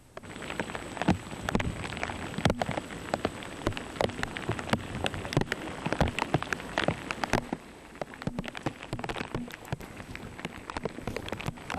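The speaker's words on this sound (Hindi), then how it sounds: "कराची शहर में इस वक्त मूसलाधार बारिश हो रही है" Heavy rain pours down in Karachi, a loud, dense wash of splashes and sharp drop impacts on hard surfaces, close and continuous throughout with no talk.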